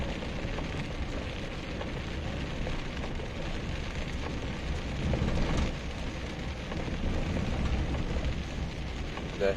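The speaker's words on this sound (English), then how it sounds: "Right now it's raining, so I have to turn on my wiper." Rain falls steadily on a car during a drive on a road under repair in Senapati District, a dense, even wash of patter heard alone, swelling slightly midway.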